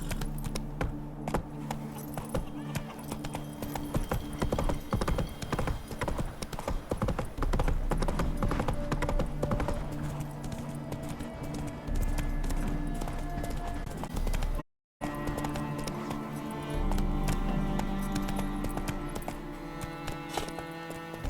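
In The Witcher 3, the horse Roach gallops with rapid, rhythmic hoofbeats that carry on steadily over game music, broken by a brief dropout before the drumming resumes.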